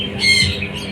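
Sharp, shrill squawking from lovebirds among caged birds at a fest, a single close call lasting about a second against faint background murmur.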